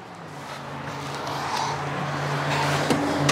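A Ford 7.3 Powerstroke diesel in a service truck with a ZF5 transmission idles and revs, a steady low rumble that swells gradually louder, heard close with no one talking.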